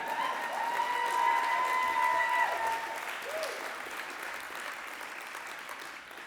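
Audience applause at an awards-season lecture or talk event, a broad wash of clapping from a large crowd that swells early and then gradually thins, with a faint tone or voice sliding through the noise.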